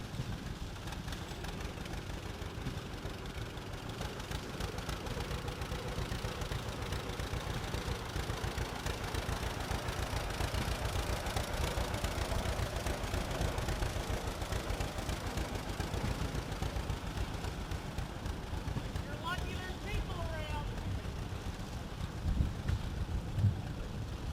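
A 1937 tractor engine runs steadily through a small-town old iron parade in Fredonia, Kansas, a continuous low, throbbing idle with wind buffeting the microphone and a brief higher whine near the end.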